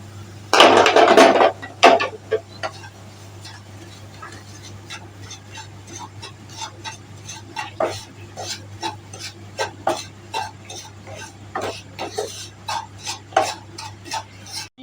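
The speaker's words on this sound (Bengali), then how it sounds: "এবার সুজিটা দিয়ে ভালো করে নাড়িয়ে নিচ্ছি" Semolina roasting in ghee in a kadai is stirred with a spoon. A loud rushing burst opens, then repeated scraping clinks and taps against the pan at an uneven rhythm over a low steady hum.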